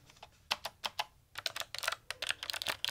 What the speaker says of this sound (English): this one is the MX Mechanical keyboard. This thing is super tactile.